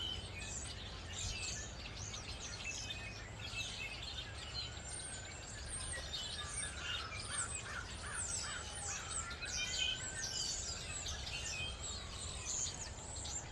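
Crows and other birds calling from a big tree in a neighbourhood, repeated caws and chirps over a soft constant background hum, fairly distant and moderate in level.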